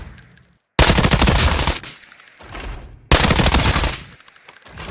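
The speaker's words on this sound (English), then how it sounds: "This is just holding straight down on the trigger." Full-auto gunfire in the shooter game Arena Breakout Infinite with the trigger held down: two long, loud, rapid-fire bursts, each lasting about a second, separated by quieter gaps.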